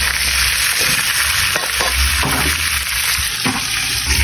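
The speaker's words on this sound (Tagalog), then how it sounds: "So magigisa na tayo mga parikoy." Pork adobo sautéing in a pan of hot oil, a loud continuous close sizzle with occasional stirring scrapes and knocks, no talking.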